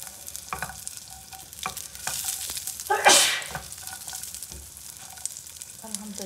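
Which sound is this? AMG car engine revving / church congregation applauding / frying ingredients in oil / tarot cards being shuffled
frying ingredients in oil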